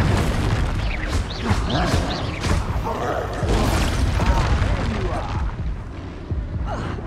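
Exploso spell blasts in Hogwarts Legacy on PS5, a dense run of loud booms and crackling bursts layered with combat noise and shouted spell voices throughout.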